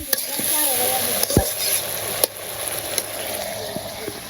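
Chorchori, a Bengali mixed-vegetable curry, cooking in a pan in a village kitchen, a low sizzle with a few sharp utensil knocks and faint voices in the background.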